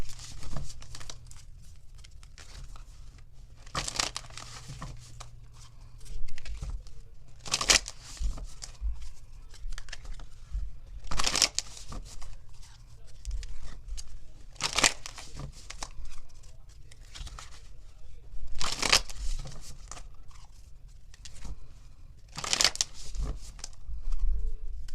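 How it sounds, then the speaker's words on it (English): Tarot cards being shuffled by hand in repeated crisp riffling bursts roughly every three to four seconds, close and fairly quiet with soft handling sounds between. "Let me get some shuffles over here."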